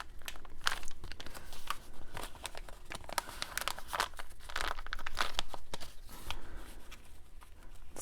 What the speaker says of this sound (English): just to make sure, by folding both of the sides over.